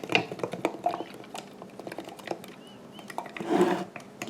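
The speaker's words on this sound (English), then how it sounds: "So we're just going to stir all that up" A measuring spoon stirring potato-flake sourdough starter in a container, quick irregular clinks and taps against the sides, close and fairly quiet, with a louder scraping burst near the end.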